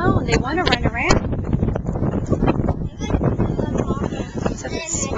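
Gusty wind buffets the microphone outdoors in a farm yard where Yorkiepoo puppies run around, a steady rough rumble and rustle running the whole time beneath a voice.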